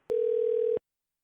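A telephone dial tone comes on after a call is disconnected: one steady, clear, close electronic hum lasting under a second, with a sharp click at the start and another at the end.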